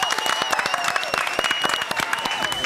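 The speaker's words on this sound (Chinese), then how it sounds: "掌声鼓励。" Studio audience on a Taiwanese cooking show breaks into applause, a dense, continuous patter of claps close by that holds steady throughout.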